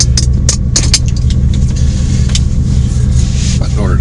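A car, a C4, drives along the road with a steady loud rumble of engine and tyres, and a voice talks over it.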